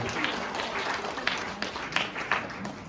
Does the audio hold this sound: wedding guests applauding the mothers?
yes